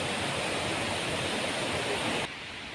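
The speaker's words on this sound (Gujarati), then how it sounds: "ડુંગર ઉપરથી પડતું પાણીનો અવાજ કેવો સુંદર આવી રહ્યો છે" Loud, continuous rushing roar of water falling from a hill after heavy rain, broad and unbroken, with no voices.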